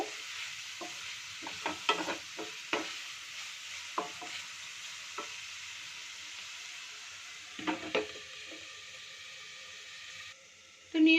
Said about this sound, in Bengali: তো পেঁয়াজটাকেও ভালো করে ফ্রাই করে নেব।